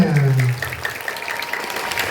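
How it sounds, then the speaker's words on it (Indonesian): An audience at an Indonesian disaster-mitigation talk on fires and wild animals claps briefly, a short burst of scattered applause following a spoken line from the presenter. "Kasih tepuk tangan dulu untuk ibunya"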